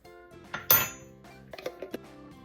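A utensil clinks and scrapes against a bowl while fish coating of flour and baking powder is stirred, giving a sharp clatter followed by a few lighter, scattered taps.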